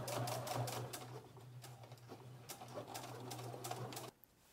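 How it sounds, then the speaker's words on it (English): A sewing machine stitches around the edge of a pleated fabric face mask, running with a steady motor hum and rapid needle rhythm for about four seconds before stopping abruptly. "Stitch around the entire mask and trim the thread."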